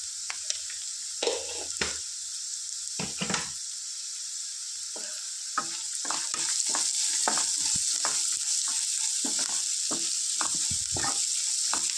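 Onions salted and frying in a pan, a steady close sizzle with intermittent scraping stir strokes, quieter at first and fuller in the second half.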